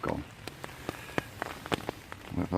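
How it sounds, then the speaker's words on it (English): Rain falls in the woods and drips onto a tarp shelter, making sharp, irregular taps scattered over a soft, quiet background hiss, with a faint low murmur at the start and end. "there's a lot of rain dripping in there"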